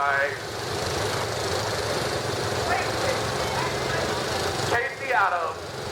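A John Deere 165 Hydro lawn tractor engine runs steadily in an outdoor parade, a constant nearby chugging drone, with a voice briefly heard toward the end.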